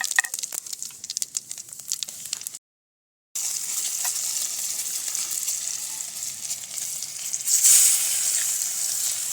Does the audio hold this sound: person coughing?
no